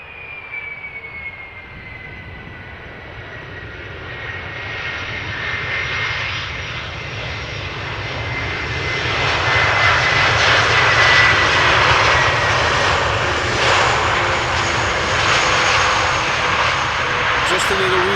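An Airbus A321neo roars past on landing at Amsterdam Schiphol, its engine noise building steadily to a loud, sustained rumble and whine as reverse thrust kicks in.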